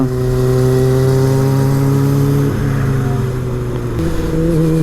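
A motorcycle rides through busy traffic on a seaside road in Fukuoka, Japan. Its engine drones loud and close with a steady tone, and the pitch shifts partway through and again near the end.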